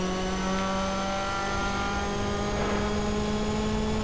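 Mitsubishi Evo 5 engine in the racing game TOCA Race Driver 3 at Laguna Seca, a steady loud droning whine held at high revs throughout, with no talking.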